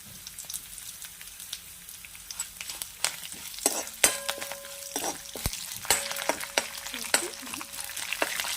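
Mustard seeds, urad and chana dal, curry leaves and chilies frying in hot oil for an orange-peel gojju, a steady close sizzle with sharp pops and crackles scattered throughout, no talking.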